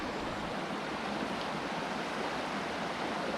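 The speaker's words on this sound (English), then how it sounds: "this little waterfall, this is all this snow melt, and it is pretty cool." A small snowmelt waterfall and creek at Upper Melakwa Lake pour and rush in a continuous, close, broadband roar that holds steady throughout, with no voices.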